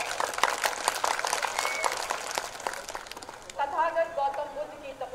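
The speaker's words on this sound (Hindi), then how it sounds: "आने वाली मुख्यमंत्री उत्तर प्रदेश की जोरदार तालियों के साथ स्वागत" A crowd claps briskly in welcome at a political party's general assembly rally in Sirathu, Kaushambi; the applause dominates the first few seconds, then a voice takes over as the clapping fades.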